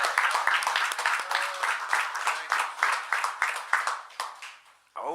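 A crowd applauds to celebrate McElderry Park Safe Streets, dense clapping and cheering that stays loud, then fades before cutting off, with a voice breaking in at the very end.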